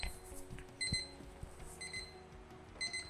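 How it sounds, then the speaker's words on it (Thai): An LED wall clock alarm beeps in short repeated bursts of high tones, with a pause between bursts, alongside faint background clatter. "มันก็กลับมาปลุกอีกครั้งนะครับ ด้วยเสียงเดิม"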